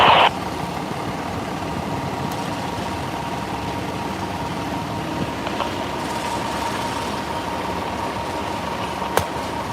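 A train at a railway station platform, a steady low rumble of idling engine and rail noise with a brief clank at the start and a sharp tick near the end, no speech.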